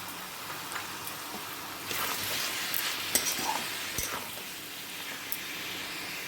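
Jackfruit curry with tomato puree hisses and sizzles steadily at a moderate level over medium flame. A spoon stirs and scrapes now and then, with a few clinks against the pot, and no one speaks.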